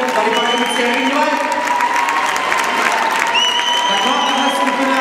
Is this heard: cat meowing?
no